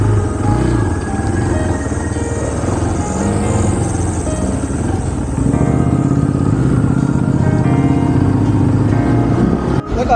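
Boda boda motorcycle riding through busy Kampala traffic, a steady loud engine drone with surrounding vehicle noise throughout, the rider's own bike close and continuous.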